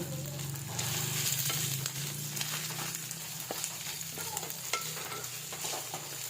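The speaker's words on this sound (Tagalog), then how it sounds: "hindi ko na siya guys ginisa. Magigisa rin naman yan eh." Chopped sisig with onions sautéing in a pan, a steady close sizzle broken by frequent scraping and clacking stirs of a utensil against the pan, no talking.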